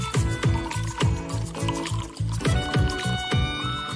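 Water poured from a vessel at a breakfast table, a continuous gurgling pour with rhythmic glugging pulses, close and fairly loud throughout.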